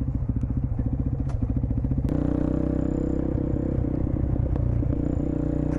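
A Honda Grom motorcycle engine with a dual exhaust idles with a rapid, lumpy pulse, then revs up into a deep, steady exhaust roar, loud and close.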